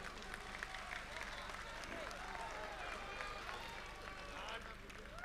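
An audience at an Indian Republic Day kavi sammelan and mushaira in Dubai applauds to welcome a poet, dense clapping filling the hall steadily throughout with crowd noise mixed in.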